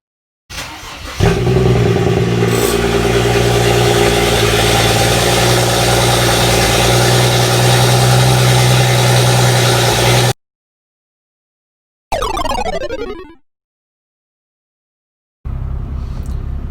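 BMW 335i with the N54 engine on a cold start: a loud, steady idle with a low, even drone held for about nine seconds, then a short rev that rises and falls, and a final burst of idle.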